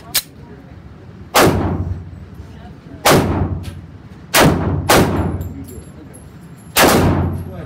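Smith & Wesson Pro Series 686 revolver in .357 Magnum and E Series SW1911 pistol in .45 ACP fired at a shooting range: about six loud, sharp shots at irregular intervals, each ringing out with a short echoing tail.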